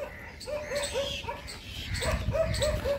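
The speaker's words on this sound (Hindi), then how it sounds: "रात को बहुत कुत्ता भोंकता है यहाँ पे" Dogs bark at night around the old Bhuli Bhatiyari palace ruin, a reputedly haunted spot: a quick run of sharp, yelping barks in short bursts, fairly close, with a second volley after a brief pause.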